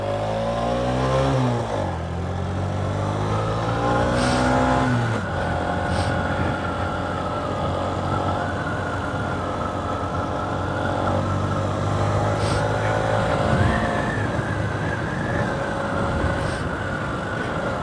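A 2023 Honda CB125F motorcycle fitted with a 28mm throttle body, heard while riding: a continuous near engine drone whose pitch climbs and shifts through gear changes, with no talking.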